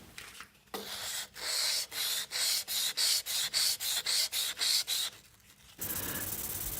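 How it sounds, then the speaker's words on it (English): Rhythmic back-and-forth rubbing of 1200-grit wet sandpaper wrapped around a dowel, hand sanding an axe head, about a dozen even strokes in a steady cadence, close and fairly loud, with no talking. "Moving on to hand sanding, I took it up to 1200 grit using Alex Steele's technique"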